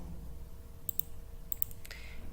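A few crisp computer mouse clicks on a plus button in task-planning software, sharp quiet ticks in two small pairs followed by a short rustle, close and otherwise near silent.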